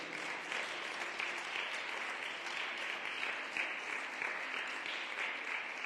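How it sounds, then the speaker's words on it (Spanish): Steady applause from a church congregation, a continuous wash of clapping that holds at an even level throughout. "Denle otro aplauso al Señor."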